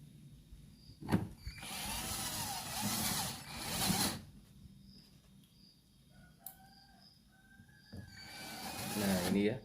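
A power drill drives bolts into a speaker box in two long whirring bursts, then a third near the end; a rooster crows faintly in the background between them.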